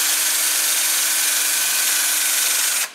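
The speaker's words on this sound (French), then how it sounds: "Il faut maintenant nettoyer toutes les soudures avec la perceuse" Electric drill fitted with a brush scours rusty welds on a home-made steel roll cage for a Renault 5 Maxi replica, giving a loud, steady abrasive whir that cuts off just before the end.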